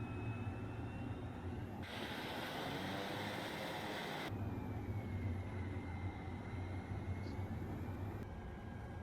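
AT-802 Air Tractor crop duster taxiing in Microsoft Flight Simulator 2024, a steady low turboprop drone with a high whine, its tone shifting as the throttle changes, continuous and close without talk.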